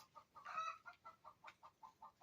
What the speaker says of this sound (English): I'm sure you can hear that. We have chickens.